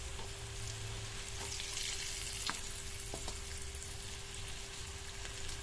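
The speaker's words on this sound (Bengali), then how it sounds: "এবার এর মধ্যে একে একে এগুলো দিয়ে ভেজে নেব।" Snacks dropped one by one into lightly smoking hot oil in a wide pan, giving a steady, close sizzle and crackle with a few sharp pops and light utensil taps, no voices.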